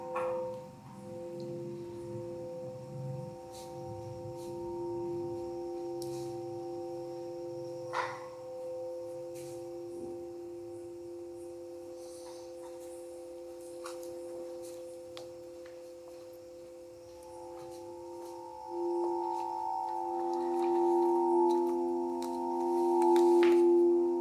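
Two sustained stone whistle tones, equal tempered and started at different moments, drift and beat against each other, steady and fairly quiet with occasional faint clicks.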